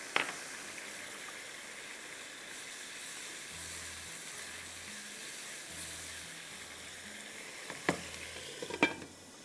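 Gravy with a little milk simmering and sizzling in a pan, a quiet steady frying hiss with faint low bubbling and a couple of utensil clinks toward the end.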